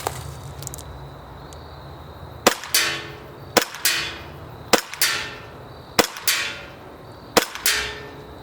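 An HK3P PX4 airsoft pistol fires 0.2 BBs at a target 40 feet away, giving five sharp, loud cracks at roughly one-second intervals, each followed by a brief slap of impact.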